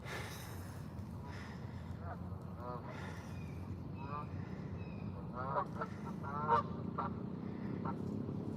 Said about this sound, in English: We're gonna watch the geese come in here for a few.